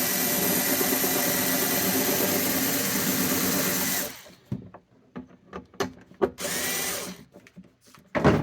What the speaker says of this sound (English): I'll drill another hole